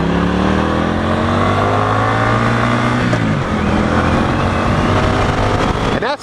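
An 800cc cruiser motorcycle pulls hard and loud, its engine note climbing, dropping briefly at a gear change, then rising again before easing off at the end.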